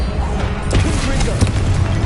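A Confringo fire spell blast in Hogwarts Legacy, a dense roaring burst with sharp crackling impacts over continuous loud game noise, with a voice present.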